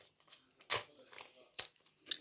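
A paper surprise packet from the Smile Park collection is torn and crinkled open, with two sharp rustling bursts and a few softer paper rustles in between, close and fairly quiet.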